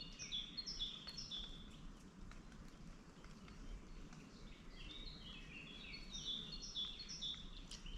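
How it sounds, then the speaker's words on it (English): Several small birds chirp and trill in short bursts at the start and end, fairly faint over a steady outdoor rumble with no talking. "Take a minute to listen to the birds"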